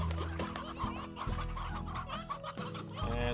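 Chickens and a rooster cluck in the video game Slime Rancher, a busy run of close, overlapping squawks and clucks in uneven bursts with no talking.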